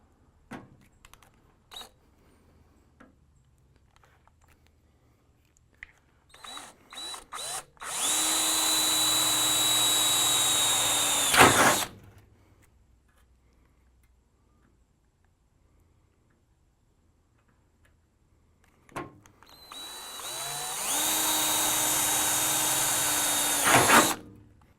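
A power drill bores out spot welds on a car body panel in two sustained bursts of steady high-pitched whine, each a few seconds long, with quiet handling clatter between them.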